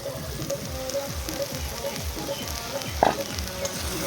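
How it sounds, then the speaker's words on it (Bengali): Meat broth is added to a pan of tomatoes being cooked down for a Bengali beef and vegetable dish, and it fries in a steady, loud, close sizzle with a brief stirring clatter, with no talking. "সেই ঝোলটা একটুখানি দেব, ঢেকে ভালোভাবে কষিয়ে নেব।"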